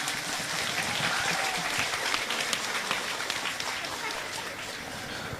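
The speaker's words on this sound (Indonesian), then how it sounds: "kasih tepuk tangan." Audience applause at a lively Indonesian religious gathering with comedic duet performers, steady crowd clapping filling the whole stretch at close range, with faint voices mixed in.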